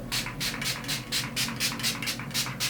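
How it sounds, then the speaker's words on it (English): Too Faced Hangover setting spray misted onto a face, about a dozen quick hissing spritzes in a steady, even rhythm, close and clear with no talking. "I'm just going to quickly pop on some Too Faced Hangover Spray just to make sure I'm nice and hydrated before powdering"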